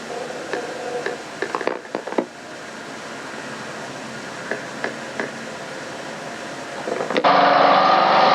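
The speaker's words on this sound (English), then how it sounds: "This is called a whacker. Pounding down the dirt." A plate compactor (whacker) pounding down dirt at a church construction site, with an engine hum running throughout, some clanks and knocks early on, and a louder, harsher vibrating roar at the end.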